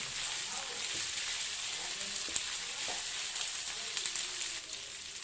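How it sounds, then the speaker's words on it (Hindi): Mutton pieces fry crisply in a pan for Hyderabadi-style fried gosht, giving a steady quiet sizzle with occasional crackles and stirring scrapes throughout. "अच्छे से मटन फ्राई हो रहा है, अच्छा क्रिस्पी हो रहा है।"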